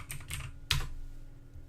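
A few quick keystrokes on a computer keyboard, close and quiet, in a short burst of light clicks followed by one firmer tap, with no voices.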